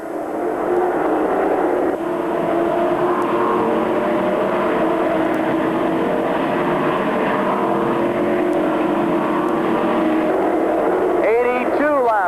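Stock race cars roar around the Thunder Road Speedbowl oval during the 2002 ACT Labor Day Classic. The loud, continuous engine drone never lets up and rises and falls slightly as the pack passes, with voices over it.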